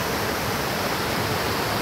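A waterfall at Kindia in West Africa gives a steady, dense rush of falling water, broadband and continuous, with no other sound standing out.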